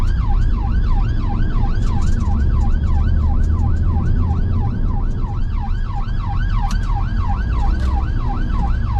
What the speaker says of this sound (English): I shouldn't have to hear this ambulance blow that horn one time